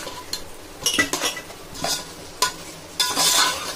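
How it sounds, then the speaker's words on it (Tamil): Prawns stirred in a cooking pan, with several distinct scrapes and clinks of a utensil against the metal at irregular intervals and a faint sizzle beneath, close up and with no talking. "தனித்தனியா போட்டு அப்படியே கிளறி விட்டுற வேண்டியதான்."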